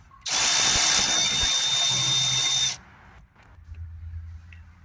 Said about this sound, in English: first we're just going to have to open these 4 screws around the ECU